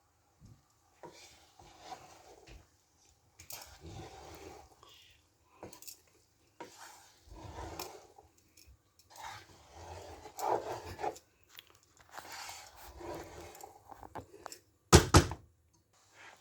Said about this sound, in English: the vegetables are in now, and we need to mix that and cook